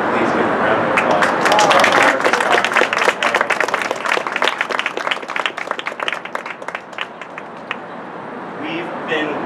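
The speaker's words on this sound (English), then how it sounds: "Can you please give a round of applause?" Crowd applause at an outdoor neighborhood gathering about the East River Esplanade, dense clapping that swells early, then thins into scattered claps and fades near the end.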